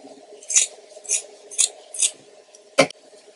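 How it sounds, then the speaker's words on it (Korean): Scissors snipping thread after a sock is sewn for a rabbit sock doll, with four quick close-up snips followed by one sharper final cut in a quiet room. "매듭을 짓고 잘라줍니다."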